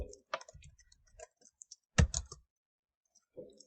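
Sharp clicks and keystrokes on a computer keyboard as a disk-partition command is entered in a Linux terminal, scattered taps building to a dense burst mid-way, close and fairly quiet.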